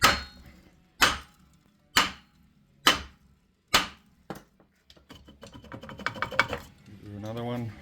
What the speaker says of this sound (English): You're going to have to bang on the rotor with a hammer.